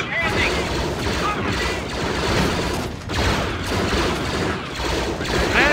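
Dense, continuous blaster gunfire during the Battle of Naboo in Star Wars Frontlines, a steady barrage of rapid shots and crashes with shouted voices mixed in beneath.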